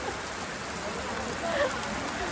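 Rain falling during a bike trip, a broad steady patter and hiss close by, with brief faint rustles and a soft voice murmuring underneath.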